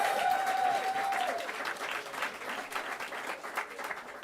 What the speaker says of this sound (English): A big round of applause for the judges again,